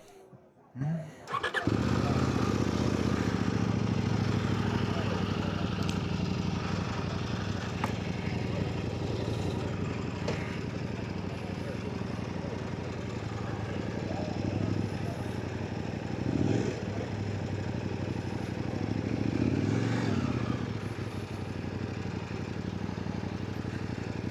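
A Kove 800X Rally motorcycle engine starts up and runs steadily at idle, a continuous close rumble with a couple of brief revs partway through.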